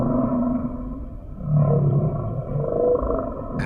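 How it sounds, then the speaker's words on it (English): Blue whale song in the deep ocean: drawn-out, low moaning tones that swell and fade, heard alone without talk. "The whales in different oceans have different songs."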